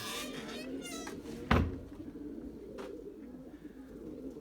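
A white pigeon, a calm bird kept with its mate nesting on eggs in a pine-straw loft, gives soft low coos with a sharp knock partway through, close by over a faint background hum.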